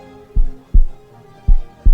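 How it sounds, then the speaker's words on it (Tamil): Heartbeat sound effect in a dramatic romance voiceover, four strong low thumps in lub-dub pairs at a steady pulse, close and loud against a faint background hum, with no talking. "உங்களுக்கு ஹார்ட் பீட்லாம் திடீர்னு ரைஸ் ஆகுது"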